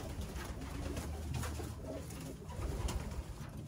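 Racing pigeons coo softly and repeatedly at their loft during a race, low murmuring calls over steady background noise.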